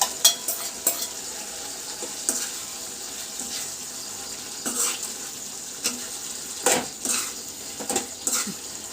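Chicken is stirred into thickened curry gravy in a pan, making a gentle sizzle under repeated wet stirring scrapes and clinks of a spoon against the pot, close and irregular, with no talking.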